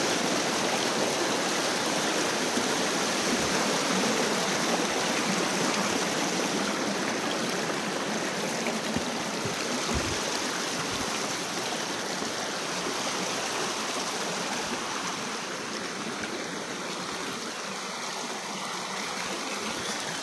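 A mountain stream in Juuka, Finland, with slightly humus-tinted water rushing steadily over rocks, a continuous broadband wash that holds at an even, fairly close level throughout with no voices.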